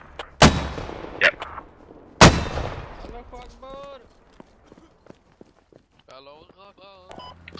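Two loud, sharp gunshots ring out close by in the video game Squad, followed by quieter clatter and scattered voices talking in the background.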